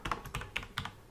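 Quick keystrokes on a computer keyboard, about five crisp, close taps in an irregular rhythm over a quiet background.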